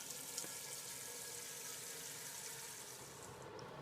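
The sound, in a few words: water filling a pot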